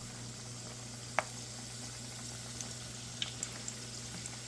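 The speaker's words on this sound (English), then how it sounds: "now we got the oil nice and hot. We're going to get these laid in here" Egg rolls laid into hot oil give a steady, faint, even sizzle of frying, with a few small pops and ticks over a low hum.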